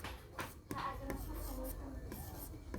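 Pencil writing a four-digit number out in words on paper in a Class 3 maths lesson, a steady close scratching and rubbing of graphite across the page with short pauses between strokes.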